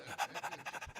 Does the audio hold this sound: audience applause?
no